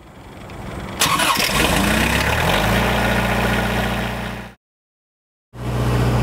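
A SealMaster crack sealing machine's diesel engine cranks with a loud burst, then catches and settles into a steady low rumbling idle, close and alone, briefly cutting to silence before the idle resumes.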